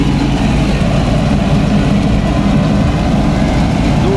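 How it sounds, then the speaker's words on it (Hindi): A New Holland 3630 Special Edition tractor engine running steadily while driving a straw reaper through a pulley, a loud, close, low diesel rumble with an even rhythmic throb and no pauses. "परफॉर्मेंस आप देख रहे हैं ट्रैक्टर की।"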